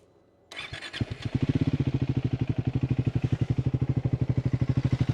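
A Triumph Speed 400 motorcycle starts up after a quiet moment, a brief clatter of cranking, then settles into a steady, close, evenly pulsing single-cylinder idle.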